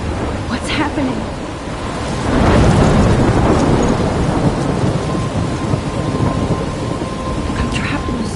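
A heavy thunderstorm with rain pours down steadily and loudly, a deep rolling thunder swelling up midway and lingering beneath the dense downpour.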